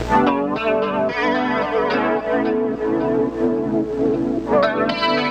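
Sustained synth-like music run through the warble effect on an SP-404 sampler, with a wobbly, pitch-wavering warble and chorus-like shimmer, playing continuously and fairly loud with no talking.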